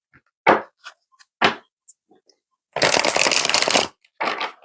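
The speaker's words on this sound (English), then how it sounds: "let's shuffle up these cards one more time" Brisk riffling of a tarot deck: a few short flicks, then a long dense shuffle of about a second, then another short burst, close and loud with no talking.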